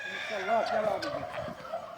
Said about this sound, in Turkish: Cins tavuklar da var.